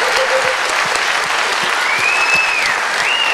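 Steady audience applause fills a hall at a disability awards ceremony, dense and continuous throughout, with a brief whistle-like tone rising above the clapping.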